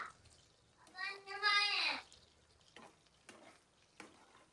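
Prawns fry in ghee in a pan for a prawn ghee roast, giving a close sizzle that rises in a short burst and then stays low with light stirring and scraping beneath it.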